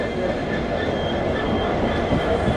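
The Swarn Jayanti Rajdhani Express runs along the rails on its Sabarmati to Delhi route, a loud continuous rumble of wheels and carriage noise heard from inside, steady with no talk.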